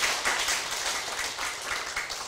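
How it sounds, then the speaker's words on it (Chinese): An audience at a Taiwanese lecture claps together in a dense, even patter of many hands that lasts a couple of seconds. "我们来拍手一下吗？"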